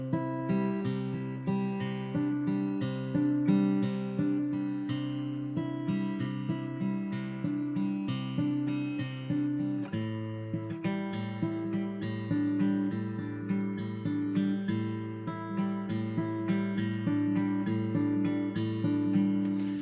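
A repeating guitar riff of steady picked notes, loud and continuous, with a shift in the pattern about halfway through; no voices.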